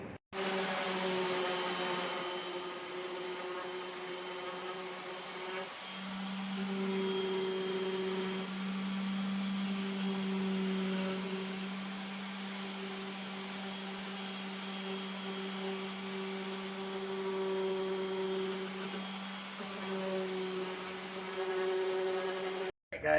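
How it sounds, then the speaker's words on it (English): An electric sander fitted with 120-grit sandpaper works over wooden pieces for a Christmas angel, running as a steady loud droning whine with a few shifts in pitch as pressure changes, close and without a break. "I'm going to get my sander out with some 120 on it, and I'm going to sand all these down real good"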